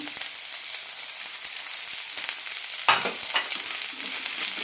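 Onion with green peas and chopped carrot sautéing in a pan for jowar upma, a steady close sizzle with occasional stirring scrapes and one louder spatula clatter partway through.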